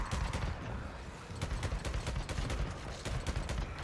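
Rapid automatic gunfire from a powerful weapon in Days Gone, a dense stream of loud shots with repeated bursts and sharp cracks over a continuous rumbling game background.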